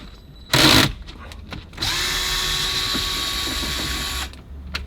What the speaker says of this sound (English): So this is a screwdriver gun, I guess we're going to call it.